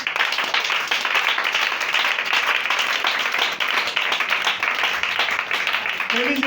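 Congregation at a church service applauding and cheering for Jesus, a dense, steady wash of clapping that holds loud and continuous throughout.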